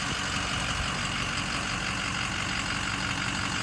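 A 2007 Ford F-450 dump truck with a 6.0L Powerstroke turbo diesel runs steadily nearby, a constant low rumble with a broad hiss on top and no pauses.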